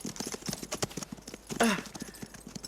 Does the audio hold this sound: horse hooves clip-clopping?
yes